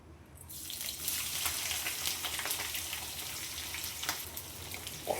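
Chopped onion and green chilli frying in hot oil with cardamom, giving a steady bright hiss and crackle that swells after a brief quiet start and runs on alone.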